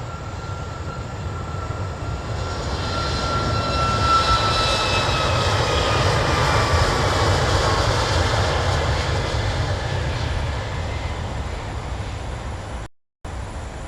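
Airliners departing and arriving on runway 22 at Chicago O'Hare, a loud sustained jet engine roar that builds, holds steady, then eases slightly, heard close by outdoors with no talking.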